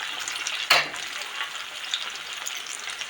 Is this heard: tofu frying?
yes